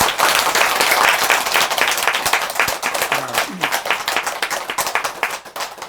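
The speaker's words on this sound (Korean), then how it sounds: "박수 한번 쳐주세요." Temple congregation at a Buddhist dharma service applauding loudly, a dense burst of clapping that gradually thins into looser individual claps with a faint voice in the background.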